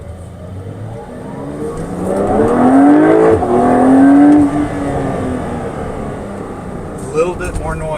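A Porsche with an upgraded exhaust in sport mode revs up, its engine rising to a loud, throaty drone that falls away again, followed by a quieter idle.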